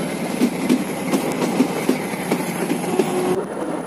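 The Kangra Valley toy train rolls along its rails, with a steady rumble and regular clickety-clack wheel beats heard from aboard and a faint squeal near the end.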